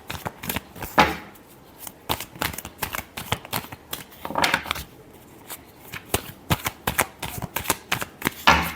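Tarot cards being shuffled in quick, crisp riffling bursts, repeated several times with short pauses between, close and alone without speech.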